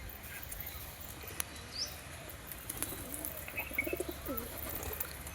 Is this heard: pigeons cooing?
yes